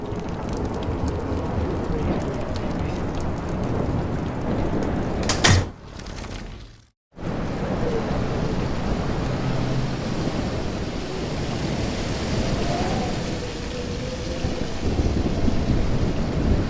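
Stormy weather in the game Life is Strange: a steady wash of heavy rain and rumbling thunder fills the scene, broken by a sharp crack and a brief near-silent gap before the downpour resumes at full strength.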